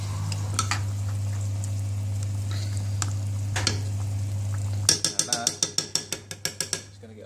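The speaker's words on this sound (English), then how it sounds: "Stir that up." A spatula stirs Burmese curry with spinach in a pan, soft scraping and sizzling over a steady low hum, then a quick run of sharp rhythmic clatters near the end, with a voice briefly heard.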